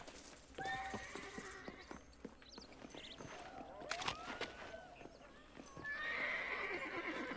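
A horse in Red Dead Redemption 2 whinnies and snorts while its hooves clip-clop at an uneven pace, fairly close and quiet, with no talk over it.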